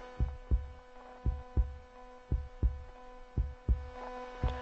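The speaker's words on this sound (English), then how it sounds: "It was the beating of the old man's heart." A steady, rhythmic heartbeat thumps low and close, each beat a soft double pulse, over a faint continuous hum.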